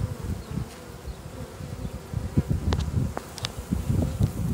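Honeybees on hive frames fan around a newly introduced queen, a close, dense buzzing hum that swells and dips, with a few sharper individual wingbeat zips standing out above the swarm.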